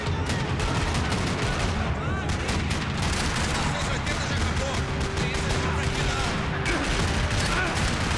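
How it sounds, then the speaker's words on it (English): Dense, continuous gunfire fills a parking lot shootout in the video game Max Payne 3, with rapid overlapping shots and bursts under game effects and no let-up. "Another parking lot rattling with gunfire."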